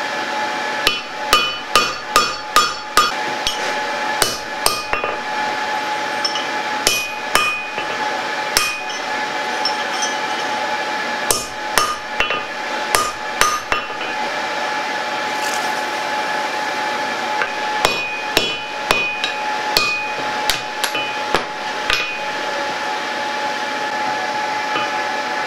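A hammer strikes a chisel being driven through truck leaf-spring steel while forging an axe, in bursts of sharp, ringing metallic blows separated by short pauses, loud and close with no talk.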